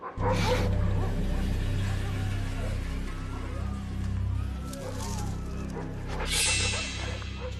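Dogs bark at an approaching polar bear, a steady low rumble of yaps and whines running throughout with a sharper burst of barking near the end.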